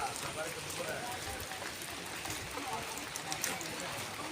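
Evening rain falling on a road, a dense continuous hiss of drops and runoff spread evenly throughout, fairly close and steady with no talking.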